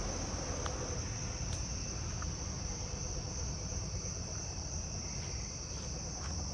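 Steady, unbroken high trill of Carolina ground crickets filling the night, an even chorus with faint distant rumble underneath and a few brief clicks.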